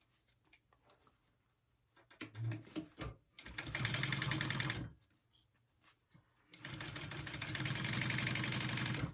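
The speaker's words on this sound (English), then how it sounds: "we're gonna sew these at a 1/2 inch seam allowance" Sewing machine stitching tote bag pieces at a half-inch seam, running in two close bursts of steady rapid whirring, separated by short pauses with light handling clicks.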